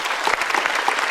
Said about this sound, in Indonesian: Untuk yang memilih A, kita berikan tepuk tangan.